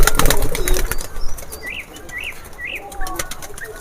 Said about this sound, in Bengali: এটা হচ্ছে 1 লেজের কবুতর।